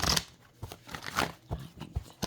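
Tarot cards being shuffled by hand, a series of quick close papery riffles and slaps in uneven bursts.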